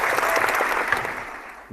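Applause from a group breaks out during a sports video game podcast, dense steady clapping that holds for nearly two seconds and then tapers off.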